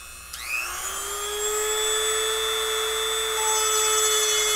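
A small Dremel rotary tool engraving wood spins up to higher speed with a rising whine, then holds a steady high-pitched drone, loud and close.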